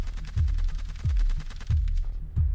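Close gunfire aimed at a gendarmerie vehicle during an armed attack: four sharp, heavy shots spaced roughly evenly, each with a booming low-end thump and echoing tail, with rapid clattering bursts between them.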